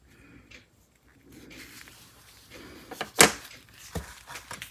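A drawer in a workshop holding Powr-Kraft tools is opened or shut, giving a sharp, loud rattling clack near the middle. Quieter shuffling and handling noises surround it.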